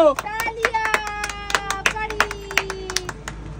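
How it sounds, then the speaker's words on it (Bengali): Sharp, rhythmic hand claps repeat steadily during an ice cream eating challenge, over a continuous high-pitched voice or whistle-like tone, close and fairly loud. "চলো চলো তালিয়া তালিয়া"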